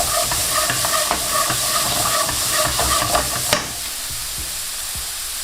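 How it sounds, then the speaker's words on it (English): Onions and green peppers sautéing in oil over medium heat, a bright steady sizzle with rhythmic stirring scrapes that stop about two-thirds through, leaving a softer hiss. "You want to lightly saute these for a few minutes."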